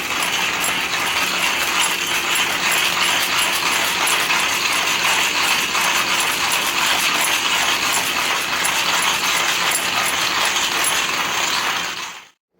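A Porlex Mini hand grinder crushing coffee beans, a steady, dense crunching and ratcheting grind that runs close and loud without a break for about twelve seconds, then stops abruptly.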